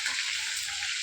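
Tomatoes sauté in a hot pan with a steady, hissing sizzle that holds at an even level for the whole moment, with no talking.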